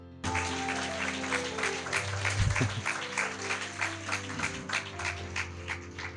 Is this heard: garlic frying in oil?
no